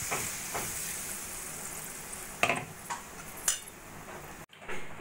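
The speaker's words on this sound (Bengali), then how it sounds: "এবার দিয়ে দেবো আমি পরিমাণ মতো জল" Water poured into a pan of frying potato and pointed gourd curry, a hissing steam burst with a few clinks of metal utensils, fairly quiet, ending in a sudden cut and a brief rush.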